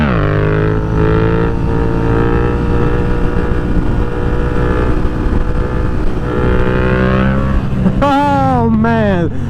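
Yamaha FZ-07 motorcycle engine held at high revs through a stand-up wheelie, a loud steady droning roar with pitch slowly shifting, then rising sharply in a quick rev climb near the end.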